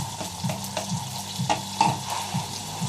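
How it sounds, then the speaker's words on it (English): Salmon frying in oil in a pan with a bubbling sauce, a steady close sizzle broken by faint stirring clicks and pops of bursting bubbles, no talking. "That's bubbling away nicely, the sauce."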